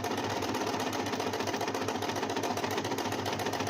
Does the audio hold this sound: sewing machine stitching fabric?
yes